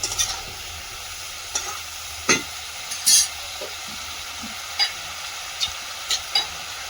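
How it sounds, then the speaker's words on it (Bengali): A vegetable curry braises in a pan, a steady close sizzle under intermittent scraping stirs and a few sharp clinks of the spoon against the pan's side. "তরকারিটা কষাতে কষাতে এদিকে জিরেটাও বেটে নিলাম"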